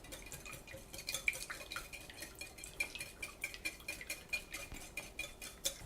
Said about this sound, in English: time to whisk up the marinade